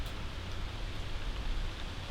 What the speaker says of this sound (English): We're going to take advantage of this wind and rain.